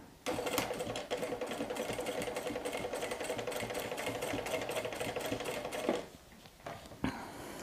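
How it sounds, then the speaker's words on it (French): A sewing machine stitches fabric for an evening bag, with black thread on top and ecru thread below. Its motor whirs steadily and close for about six seconds, then stops, followed by a few short bursts. "je me mets du côté où je vais coudre en noir et dessous ça coudra en écru"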